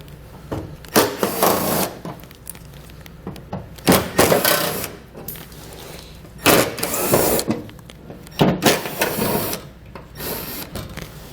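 A power driver with a T25 Torx bit backing screws out from underneath a 2017 Volvo V90, several separate bursts of whirring and grinding against a steady noisy background, close and loud.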